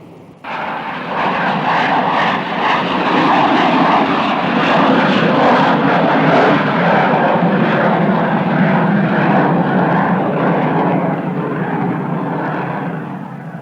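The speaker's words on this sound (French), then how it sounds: "L'avion va décoller." A large passenger airliner roars steadily at an airport, loud and sustained with a broad engine rumble for about thirteen seconds, with no talk over it.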